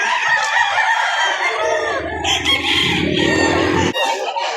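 Rooster crowing at the Padre Garcia livestock auction market in Batangas, a loud drawn-out cock-a-doodle-doo near the microphone, with other fowl clucking and market bustle around it.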